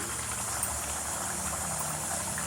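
Athirasam dough made from rice and jaggery frying in hot oil, giving a steady dense sizzle and bubbling hiss that stays constant throughout with no talk.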